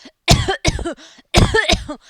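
A voice imitates the coughing of a tuberculosis patient, with two close, loud bursts of rapid, harsh coughs separated by a short pause.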